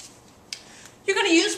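Brief squeaky scratching of a marker writing geometry notes about triangles by hand. A faint tap comes first, then a half-second burst of writing near the end.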